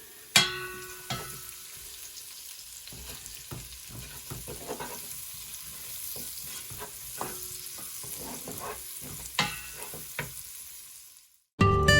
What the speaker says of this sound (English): we are then going to add in our onions and saute them up for 5 to 7 minutes